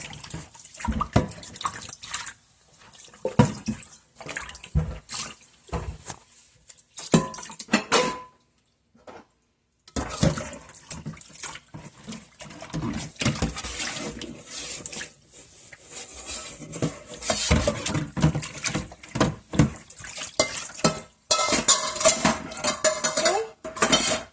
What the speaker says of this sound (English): I'm still able to rinse more dishes with this amount of water